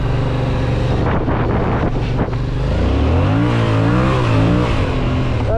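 A Yamaha MT-07 motorcycle engine with stock exhaust roars loudly up close, revving up and down in waves against steady wind noise on a mountain ride.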